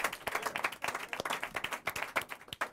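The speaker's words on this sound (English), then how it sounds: "So give yourselves a round of applause." An audience at an evening event applauds itself, a dense, steady patter of many hands clapping close by and continuously, with no talking over it.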